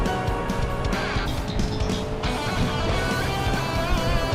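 A Porsche Panamera race car driven hard in an online racing event, a steady, loud engine roar with shifting pitch and brief squeals throughout, no talking heard over it.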